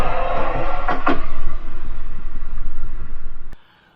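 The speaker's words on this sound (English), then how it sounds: "There's another tram going by." A Nottingham Express Transit tram passes close by with a loud rumbling, rhythmic clatter of wheels over the track that continues for about three and a half seconds and then cuts off abruptly.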